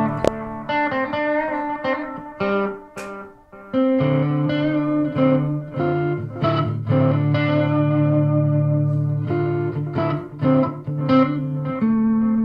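Electric guitar notes through a Line 6 Spider III 15-watt practice amp repeat with a tape-style echo, each phrase trailing off in fading repeats, loud and close with no voices.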